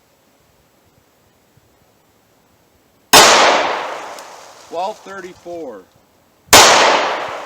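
Two sharp, loud 9mm pistol shots firing 124 grain +P Speer Gold Dot rounds crack out about three seconds apart, each with a bright decaying tail, and a person speaks briefly between them.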